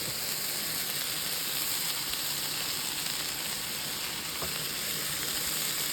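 Mixed vegetables sautéing in a pan for a Turkish meatball and vegetable sauté, a steady close sizzle and crackle of frying that runs unbroken throughout.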